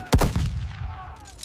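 Artillery fire in a battle scene from the 1939 Battle of Khalkhin Gol: one loud, close blast with a deep boom, followed by a long rolling echo that fades out.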